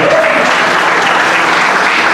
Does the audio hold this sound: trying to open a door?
no